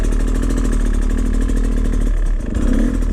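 A Beta 250RR two-stroke dirt bike fitted with a Lectron carburetor runs steadily at close range, a loud, buzzy idle with rattly mechanical clatter and a slight dip in pitch near the end.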